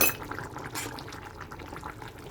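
Tomato sauce for spaghetti stirred in a pot, a close wet sloshing and soft bubbling with a few louder scrapes of the spoon, and no one speaking.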